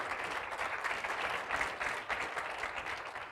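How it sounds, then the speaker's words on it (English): Steady audience applause at an opening-remarks session, dense clapping holding at an even moderate level for a few seconds, with no voices over it. "A round of applause for them, please."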